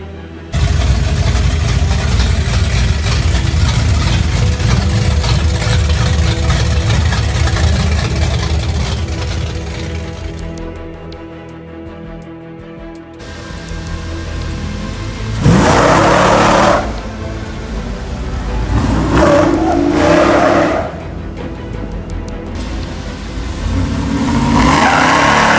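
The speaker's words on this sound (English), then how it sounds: "got a big old 540 big block. We just put some fast fuel injection on it, got a wire plug, and give her a shot here." A fuel-injected 540 cubic inch big block in a solid-axle Tahoe on 42-inch tires, heard as a loud rumbling idle that drops off, then several sharp revving bursts in the second half, close and without talk.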